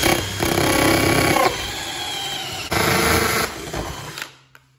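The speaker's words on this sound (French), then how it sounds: "Maintenant, mèche de 22 mm." A DeWalt 22 mm three-point wood drill bit bores into wood on an impact driver, giving a loud, continuous whirring grind that surges and eases in a few pushes before spinning down and stopping.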